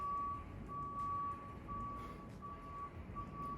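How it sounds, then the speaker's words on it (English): A vehicle's reversing alarm sounds somewhere outside, a thin repeating beep that stays faint and distant over a low indoor rumble, with no talking. "do you hear that beeping out there?"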